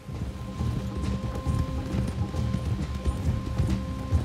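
Horse hooves clip-clop at a steady walking rhythm in the video game Red Dead Redemption, close and clear throughout, with a low ambient hum beneath.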